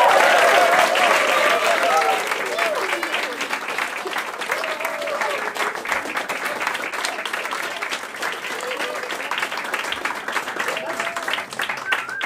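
Warm audience applause welcoming a folk music performer on stage, steady clapping from a crowd that starts loud and settles into an even wash of sound over several seconds.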